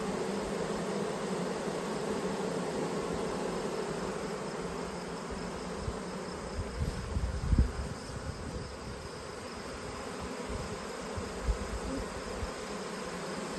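Honeybees fan and buzz at the entrance of a late-summer hive, a steady dense drone from many wings that stays even throughout, with a few faint knocks and rustles close by.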